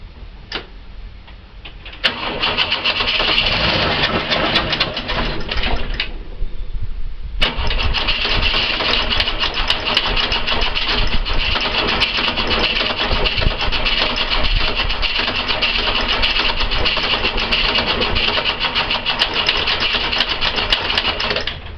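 A carburettor engine in a Ford XE Falcon cranks and fires on a cold start, stumbles briefly, then catches and settles into a loud, steady idle close by.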